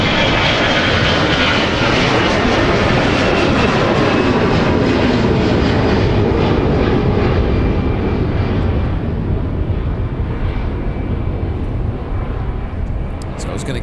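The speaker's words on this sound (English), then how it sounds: "Air France coming in with the 777 today." Air France Boeing 777 arriving at Minneapolis airport, a loud broad jet roar that holds steady and then eases slightly toward the end.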